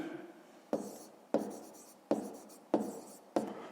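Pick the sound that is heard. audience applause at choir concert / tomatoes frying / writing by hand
writing by hand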